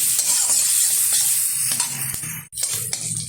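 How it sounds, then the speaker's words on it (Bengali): Green chillies and onion frying in hot oil for a shrimp and elephant-foot-yam greens dish, a steady close hiss of sizzling with occasional spatula scrapes and one brief dropout. "চারটে কাঁচা লঙ্কা ভালোভাবে এবার ভেজে নেব আমি তেলের সাথে পেঁয়াজের লঙ্কাটা"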